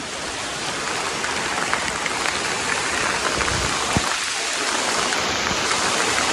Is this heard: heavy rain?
yes